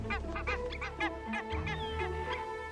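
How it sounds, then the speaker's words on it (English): Barnacle geese in eastern Greenland in spring honk in a dense, repeated chorus, several birds calling close by over a steady low background hum. "barnacle geese have arrived to breed"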